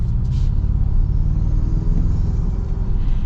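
A steady, low engine rumble from a 2025 Toyota Tacoma Trailhunter pickup with a raised air intake drones throughout at moderate loudness, smooth and continuous with no voices.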